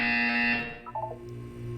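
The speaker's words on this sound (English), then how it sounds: "When you hear the buzzer, look down at the floor." A Portal 2 test-chamber buzzer sounds as one steady, bright electronic tone held for about half a second, then fades, leaving a few faint chirps over a quiet hum.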